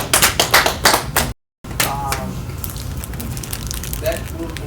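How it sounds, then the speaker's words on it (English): Clapping from a small teen audience for a poet at an open mic poetry night, loud bursts of hands over the first second, a brief dropout, then softer scattered clapping with a voice talking underneath. "clap it up for Nina one more time"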